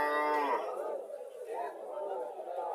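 A native dairy cow at a cattle market in Chandimura bazaar, Barura, Comilla, sold with a heifer calf, gives one close, loud moo at the start, followed by a murmur of people talking.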